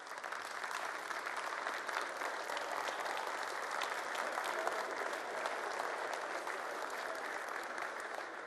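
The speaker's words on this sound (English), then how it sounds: "give everyone a great hand of applause" A large audience at a company meeting applauds: dense, steady clapping sustained for several seconds at a moderate distance, with no talking over it.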